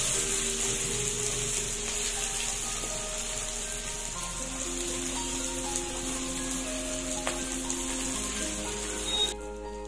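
Soaked Gobindobhog rice frying in ghee with garam masala and five-spice for khichuri, a steady close sizzle that runs throughout, with faint tonal hum and a brief scrape near the end.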